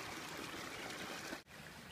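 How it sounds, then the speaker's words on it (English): Water rushing steadily through a temporary diversion pipe set up to drain a stream work area for a micro-hydro weir in snowy conditions, a continuous broadband flow with a brief dip near the end. "We're temporarily diverting the water around where we're going to build our weir."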